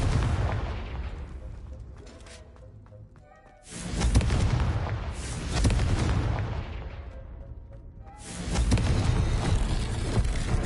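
Confringo blasting spell explosions in the video game Hogwarts Legacy: three loud, booming blasts a few seconds apart, each swelling and rumbling away, over quieter game ambience.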